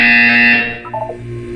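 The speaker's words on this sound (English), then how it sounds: "You will hear a buzzer." A loud electronic buzzer from the Portal 2 video game sounds once with a steady harsh tone, then cuts off and leaves a quieter hum behind.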